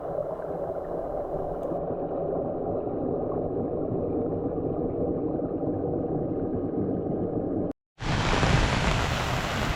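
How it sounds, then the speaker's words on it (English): Steady hiss of rain falling, continuous and even, briefly cutting out before resuming with a brighter, harsher wash. "Looks like it's raining out here now"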